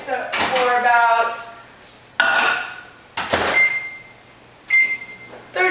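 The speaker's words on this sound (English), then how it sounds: "I'm gonna actually microwave this and pop it in the microwave" A kitchen microwave oven, used to warm thick honey, gives door clunks and a few short, sharp keypad beeps, close and fairly loud, with quiet gaps between the sounds.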